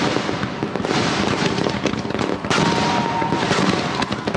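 Gunpowder fireworks burst in a rapid, crackling barrage, dense popping and sharp cracks overlapping continuously with a louder surge midway, fairly close and with no talking.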